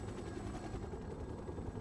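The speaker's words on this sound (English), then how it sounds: "Helicopters have been dispatched to transport you to your next objective." Helicopters in the video game World in Conflict: Soviet Assault, a steady low rotor thumping drone with rapid chopping pulses, loud and continuous.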